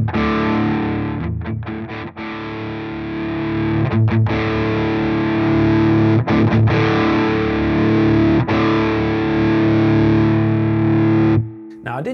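Distorted electric guitar played through channel one of a Victory V4 The Sheriff amp, sustained chords with a few short breaks, loud and up close, ending in a sudden cutoff.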